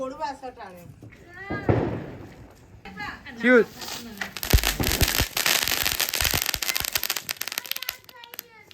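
Diwali firecrackers burst in a sharp thump, then a dense crackling barrage lasting several seconds, with excited voices talking over the start.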